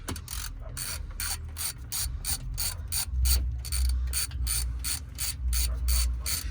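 Ratchet socket wrench loosening a 10mm bolt during a car oil change, giving a fast steady run of close, loud pawl clicks that continues throughout over a low rumble.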